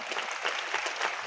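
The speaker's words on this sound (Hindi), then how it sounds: "मैं चाहूंगा इनके लिए एक जोरदार तालियां होनी चाहिए" Audience clapping at a motivational business event for an Indian network-marketing company, a dense, steady burst of applause filling the short moment without speech.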